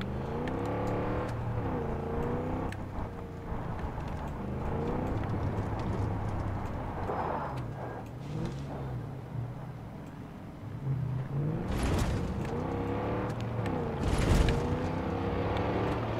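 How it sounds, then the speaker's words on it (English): A Mustang car driven in Far Cry 5, its engine revving repeatedly in rising and falling sweeps, close and steady, with a couple of sharp bursts of noise toward the end. "Now he's got a Mustang."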